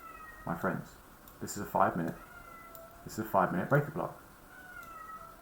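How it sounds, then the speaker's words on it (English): A pet cat cries and meows repeatedly in the background, its calls rising and falling in short bursts while someone talks steadily over them. "apologies if you can hear my cat crying in the background"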